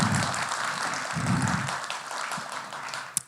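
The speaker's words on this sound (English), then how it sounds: "A huge round of applause to all the organizers" Applause from an audience at a community event on violence against women, a steady broadband patter of many hands clapping throughout, moderately loud and fairly close, with no talk over it.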